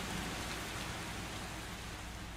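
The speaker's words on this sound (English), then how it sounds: "now you have realistic sounds of rain, hail, and wind" Steady rain in the X-Plane flight simulator, a dense even hiss of falling rain that holds constant throughout with no talking.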